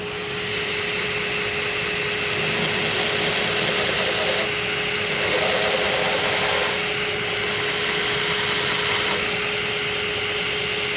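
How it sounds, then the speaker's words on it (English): Belt grinder running a coarse 36 grit belt while a knife handle is shaped against it, a steady loud abrasive whir with rising grinding pressure in two long passes, no talking. "I'm doing this with a 36 grit belt because I don't want to be here all day shaping this handle."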